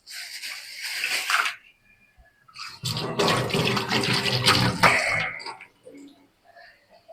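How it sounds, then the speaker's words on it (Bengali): Onions frying in oil in a pan for a curry of potato, pointed gourd and long beans, heard as two bursts of bright, hissing sizzle with a quieter pause between them. "আমি পেঁয়াজ আর তেল ভাজতে দিয়ে দিছি তরকারির জন্য"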